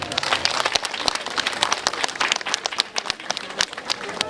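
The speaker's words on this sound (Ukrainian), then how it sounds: "аплодисменти." A crowd applauds at a ceremonial award presentation, dense irregular clapping that is close and loud and continues steadily throughout, with no talking over it.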